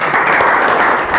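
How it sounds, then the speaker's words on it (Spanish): A lecture-hall audience breaks into steady, dense welcoming applause for a talk on gravitational waves and cosmic gold, loud and continuous throughout with no speech. "Le damos un aplauso de bienvenida."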